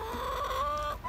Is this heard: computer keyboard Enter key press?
no